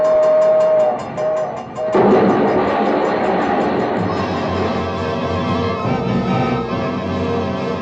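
Train passing at a crossing as a radio drama sound effect: a sustained loud rumbling roar with a horn-like tone early on that fades, steady and close throughout, with no talk.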